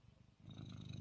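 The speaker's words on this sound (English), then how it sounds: "You hear her purring?" A close, low rumbling purr from a cat, steady and soft, building slightly in the second half.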